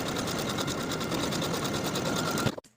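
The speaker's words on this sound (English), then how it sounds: "Sew your buttonholes at the markings from the pattern piece." Sewing machine stitching buttonholes on a lined tailored coat, a steady rapid mechanical whir running loud and close for over two seconds before cutting off abruptly.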